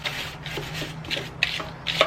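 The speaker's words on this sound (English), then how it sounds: "I'm just gonna scrape some of this off." Grime is scraped off an old high-pressure fire pump in a run of short, rhythmic rasping strokes, close and moderately loud, with no speech over them.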